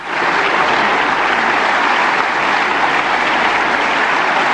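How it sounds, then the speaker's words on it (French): Sustained, loud applause from members of the European Parliament in the Strasbourg chamber, a dense even wash of many hands clapping that holds steady throughout with no voices above it. "François Hollande largement applaudi par les eurodéputés"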